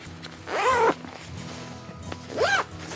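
The YKK zipper on a mont-bell Seamless Burrow Bag three-season sleeping bag gets pulled in two short rasping strokes, one near the start and one near the end, close and clear against a quiet background.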